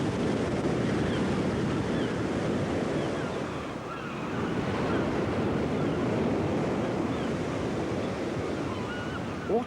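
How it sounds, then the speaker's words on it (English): Autumn storm wind and heavy waves batter a bare sea cliff in a continuous loud, rumbling roar of surf and gusting wind, with no pauses. "Autumn storms gnaw and crack the bare bones of the cliff."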